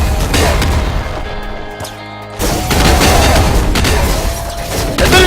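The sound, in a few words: explosions from grenade-shooting weapon in video game Nuclear Throne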